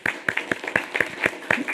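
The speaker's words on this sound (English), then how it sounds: "Let's give them a big round of applause." A small audience at a development corporation meeting applauding a student team, a few hands clapping in a fairly regular, rhythmic pattern, close and distinct with short gaps between claps.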